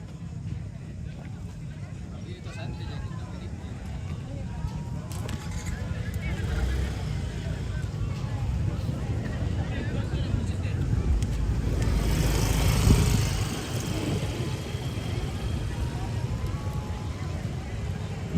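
Racing motorcycles at an open road race on the Rantetayo airport circuit in Tana Toraja, a loud continuous engine drone that swells to a peak as a bike passes close, with someone talking over it throughout.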